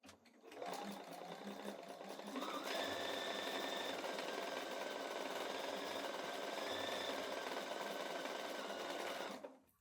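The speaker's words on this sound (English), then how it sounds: "I'm going to go sew a 1/4 inch here to here" A sewing machine runs steadily for about nine seconds, stitching a quarter-inch seam on a Stars Above quilt block, with a brief pause in pitch early on before it settles into a continuous close whir.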